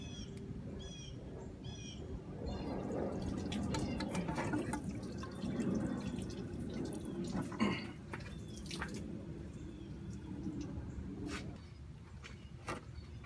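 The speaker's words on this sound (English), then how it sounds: "coolant will come out when you lift the head" Coolant drips and trickles out as the cylinder head is lifted off a 2007 Honda Pilot during a head gasket repair. The drips are faint and irregular, with soft splashing and small clinks of handling close by.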